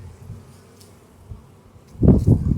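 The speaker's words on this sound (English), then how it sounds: "Then I'm gonna start shaking bees" Honeybees shaken off hive frames during a Demaree split raise a loud, sudden burst of buzzing that swells after a quieter stretch and keeps pulsing close by, with no talking.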